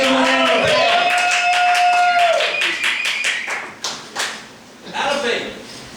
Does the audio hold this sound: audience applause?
yes